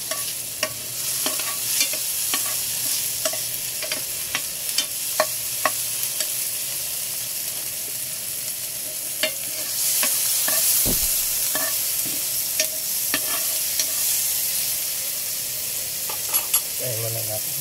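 Tomatoes sizzle steadily in a hot pan, with occasional scrapes and clinks of a utensil stirring them, close and continuous with no talking.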